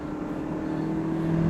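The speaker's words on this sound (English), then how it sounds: "now it sounds like it's going fast when I accelerate" A 2010 Toyota Corolla engine accelerates with a smooth, rising drone that grows steadily louder over a short span, heard from inside the car.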